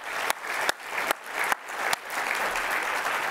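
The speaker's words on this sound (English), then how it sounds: "let's give Eric a big round of applause" Audience applause at the close of a talk on Antarctic melting: a steady, fairly loud wash of clapping from a room full of people, with a few sharper bursts standing out along the way.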